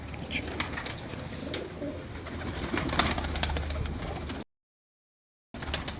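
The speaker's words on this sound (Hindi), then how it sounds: "तो ये मेरा कसूरी कबूतर है" Kasuri pigeons coo softly amid a busy outdoor background, with scattered chirps; the sound cuts out briefly near the end before resuming.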